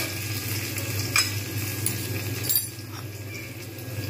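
Whole spices and onions frying in a pan, a steady sizzle with a low hum beneath, broken by scraping stirs and a few sharp metal clinks of the spoon against the pan.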